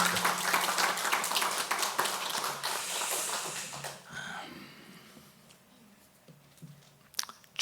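A church congregation claps during Sunday worship, thanking the pastor and choir. Dense, crowded clapping fills the hall loudly for about four seconds, then thins and fades into scattered quieter claps.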